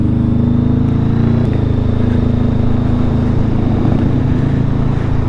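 Honda Rebel 500 motorcycle with an aftermarket exhaust idles or runs steadily, a loud, deep, even engine rumble that stays constant and close throughout.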